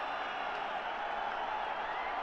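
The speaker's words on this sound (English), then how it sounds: "Oh yes, listen to the crowd." A cricket crowd at a Test match between Pakistan and Sri Lanka cheers and applauds a batsman's half century, a steady, dense wall of roaring and clapping that holds at an even level throughout.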